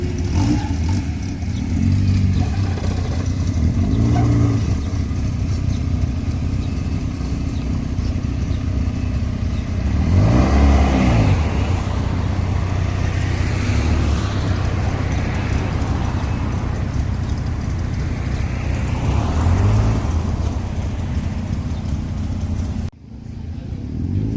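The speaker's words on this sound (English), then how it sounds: "right now they're parking the cars" Car engines idle and rev nearby as cars are parked at a Cars and Coffee meet in Japan, with a few vehicles rising and fading as they move slowly past, then a sudden cut near the end.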